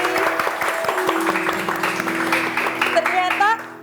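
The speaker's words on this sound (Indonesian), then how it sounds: "Tepuk tangan dulu dong untuk Rafli." A studio audience on a TVRI Sumatera Utara television program claps in a brisk round of applause, with voices talking over it.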